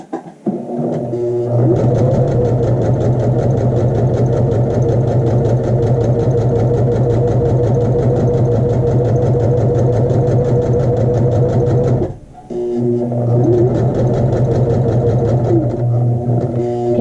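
A sewing machine stitching a 7-inch muslin square, a loud close steady mechanical whir and needle chatter that runs continuously, stops briefly near the end, then resumes.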